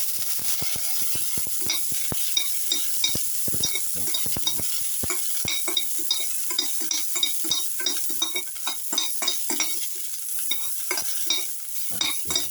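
Raisins frying in ghee in a pan, stirred steadily: continuous close sizzle with rapid scraping stir strokes and small pops throughout.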